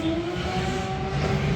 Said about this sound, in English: This might be the longest burnout if he's on the 651s